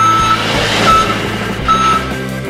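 A Dickie MAN remote-control toy truck backs up while sounding its electronic reversing beeps, a repeated tone over a buzzing motor whine, loud and close.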